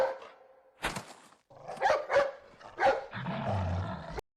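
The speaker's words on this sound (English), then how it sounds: "Hey, it's that dog." A dog in the Resident Evil 4 video game barks in several short, distinct yips and woofs spaced across a few seconds, fairly close and clear, ending in a lower growling bark.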